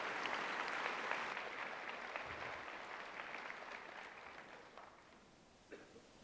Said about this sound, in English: thank you very much for your very warm applause and reception.